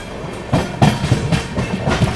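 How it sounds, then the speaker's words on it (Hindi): Shraddha Setu Express passenger train rolling along the rails, with a loud, close, rhythmic clickety-clack of wheels over rail joints and a steady rumble beneath. "अच्छा, श्रद्धा सेतु एक्सप्रेस है ये, रामेश्वरम अयोध्या कैंट श्रद्धा सेतु एक्सप्रेस"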